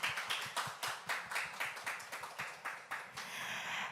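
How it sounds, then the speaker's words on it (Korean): Sparse, distinct hand claps from a small group at a startup forum, irregular but steady, close by, with a brief swell of clapping at the end. "현장에 계신 분들의 큰 박수로 시작하겠습니다"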